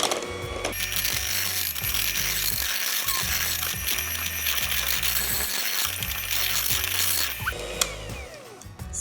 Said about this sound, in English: I use a hand mixer from this point on